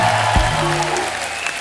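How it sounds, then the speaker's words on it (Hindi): A television comedy show's studio audience applauds in a steady, dense burst of clapping that fills the whole short moment, loud and close. "इनके लिए जोरदार तालियां"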